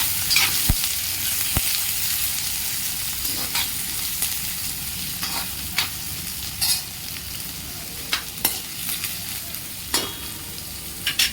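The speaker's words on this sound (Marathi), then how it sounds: "मी एक मोठा कांदा कट करून घेतलेला आहे तो त्यात घालते आणि कांदा मऊ होईपर्यंत परतून घेते" A large chopped onion sautés in a pan until soft, with a continuous moderate sizzle and repeated scraping stirs and spatula clicks at a loose, irregular pace.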